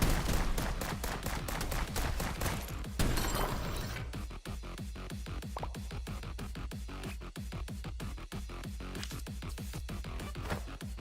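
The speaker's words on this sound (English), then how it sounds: "I need to make a nice sound, like exploding." A rapid series of sharp game-style blasts and crackles fires off in a dense, continuous burst, loud and steady throughout, like a synthesized explosion effect being tested for a video game in development.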